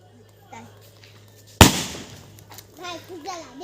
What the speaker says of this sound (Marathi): आमच्या इकडे थोडेफार पोरं फटाक्या लावतात